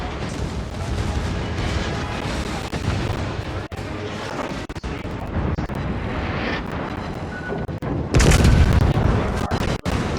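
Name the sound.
naval gunfire shot in World of Warships video game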